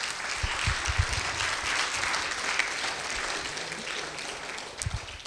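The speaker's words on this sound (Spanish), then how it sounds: "¿Quieres darle ese aplauso a Cristo? Dáselo ahora." Steady applause from a church congregation, continuous clapping at moderate volume throughout, with a few louder low thumps near the start and end.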